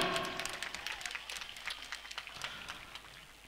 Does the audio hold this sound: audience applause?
yes